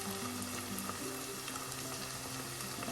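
Turmeric, chili and coriander powder fry in hot oil for a potato and lady's finger stir fry, giving a steady, close, even sizzle with no breaks and no voices.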